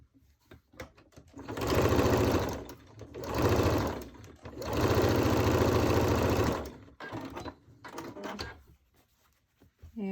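A sewing machine stitches a quilt block for a simple tulip pattern in three loud, steady runs of whirring motor and needle, each a couple of seconds long. Soft handling noises fill the short pauses between runs.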